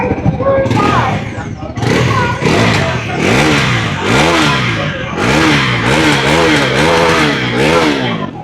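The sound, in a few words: 400cc motorcycle engine revving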